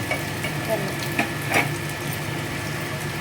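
Curry leaves frying in hot oil with mustard seeds, cumin and lentils for a mango dal, a steady close sizzle with a few brief crackles and pops.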